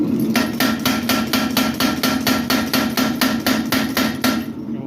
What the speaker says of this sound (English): Got a little bit of work to do with a hammer,